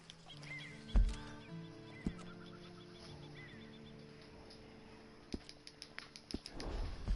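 A horse in the video game Red Dead Redemption 2 whinnies and clip-clops nearby, with a sharp thump early on and scattered hoof steps toward the end over a low ambient bed with birds and fowl.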